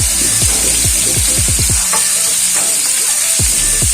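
Fish fries in a pan with a loud, steady sizzle close up, and a series of low thumps and knocks from the pan runs under it.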